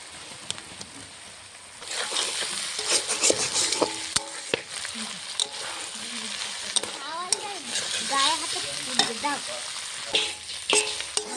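Fish-oil chorchori (macher tel potka) sizzles in a frying pan while being stirred, with steady frying hiss, sharp scraping clicks and faint voices in the background.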